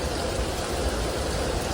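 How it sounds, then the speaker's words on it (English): Heavy rain pours steadily onto a Chicago street, a dense, even hiss of falling water that stays constant throughout. "I love the rain."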